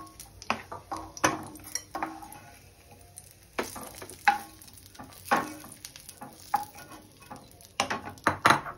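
Cashews fry in ghee in a pan, a low sizzle broken by irregular sharp clicks and scrapes of a spoon stirring against the metal, with no voices.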